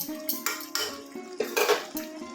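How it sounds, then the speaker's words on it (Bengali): A metal spoon clinks and scrapes against a pot and plate while kohlrabi and potato dalna is served, giving several sharp, irregular clanks in quick succession. "আমি এবার গ্যাসটা অফ করে দিচ্ছি আপনাদেরকে সার্ভ করে দেখাচ্ছি"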